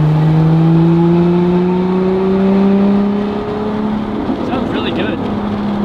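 A Lotus Emira with a Valvetronic titanium cat-back exhaust drones loudly as its engine note climbs steadily, then eases off to a quieter hum near the end while someone speaks briefly.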